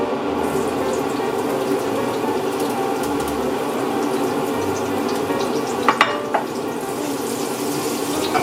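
Onion frying in warm oil in a pan, a steady dense sizzle throughout with a couple of brief sharper crackles and taps near the end, no voices.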